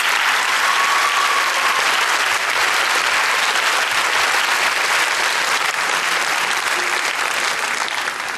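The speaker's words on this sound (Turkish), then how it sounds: "minik yıldızlarımıza kocaman bir alkış alabilir miyiz?" A theater audience gives sustained, dense applause for young child performers before a song, a steady close wash of clapping that fills the whole stretch without talk.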